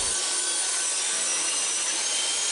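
A saw cuts a piece down for a homemade plutonium case prop, a dense continuous close-up rasp that holds steady without pause and with no talking.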